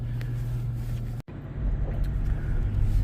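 A Ram pickup truck drives along in morning traffic, a steady low engine and road rumble close by with a brief dropout partway through, then swelling slightly louder.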